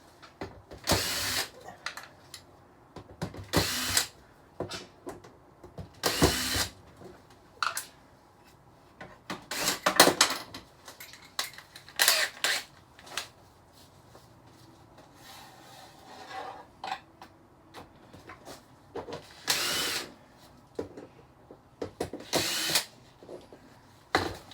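A power drill backs screws out of the rear casing of a 32-inch flat screen TV being scrapped, in repeated short bursts of whirring separated by pauses and rattling handling noise.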